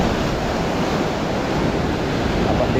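Strong sea waves surging and crashing steadily near the shore, a loud continuous roar of surf with wind buffeting the microphone while fishing from a kayak.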